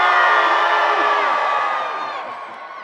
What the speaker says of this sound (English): One more scream.